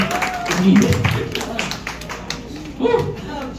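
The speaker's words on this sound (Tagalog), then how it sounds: "Isa pa malakas na palakpak para sa ating Panginoong buhay." A worship service congregation claps and applauds in a short burst, close and fairly loud, with a voice talking over it partway through.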